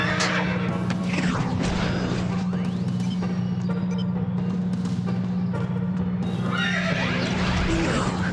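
A horse neighs and whinnies amid loud, busy game-style clatter, hooves and crashes, in Ben 10: Alien Force on PS2, with a steady low hum running throughout.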